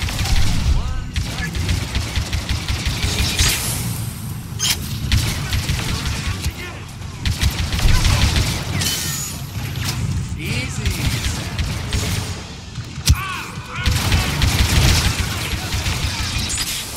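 Blaster and gunfire in a Star Wars Battlefront II single-player campaign firefight, dense bursts and booms running continuously and loud, mixed with game voices and effects.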